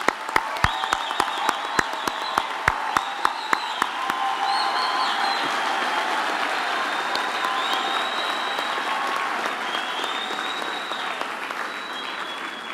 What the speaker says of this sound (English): I think we can give them all a huge hand of applause again.